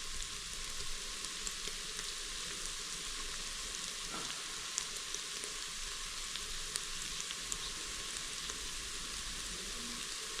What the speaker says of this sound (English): And just give them a fry off as well.